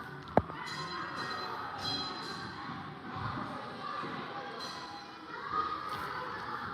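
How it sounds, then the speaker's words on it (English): Children playing and messing about on trams inside a tram depot at Crich Tramway Village, a noisy echoing hubbub of distant voices with a sharp thump near the start and scattered bangs, under a faint murmur of talk. "There's a lot of kids in here messing about on that tram."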